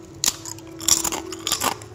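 Crisp bites into a crunchy sesame kembang goyang cookie, three sharp crackling crunches in quick succession, close and clear with no talking.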